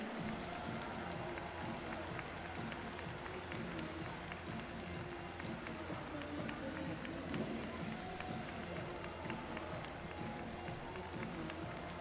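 A crowd at a track cycling World Cup velodrome in Hong Kong cheers and claps steadily over a rumbling, rhythmic background, with a commentator's voice talking over the din.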